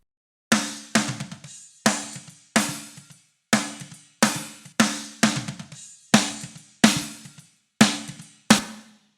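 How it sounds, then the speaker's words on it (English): Single snare drum hits, top and bottom microphones mixed in Logic Pro, ring out one by one at a steady, evenly spaced pace, each crack sharp and close with a short decaying rattle of snares, played alone. "you let the snare drum play"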